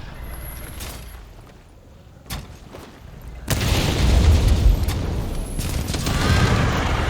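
Booming explosions in Monster Hunter World burst in quick succession, with a sharp piercing sniping shot early on and a dense, loud barrage of blasts rumbling through the second half.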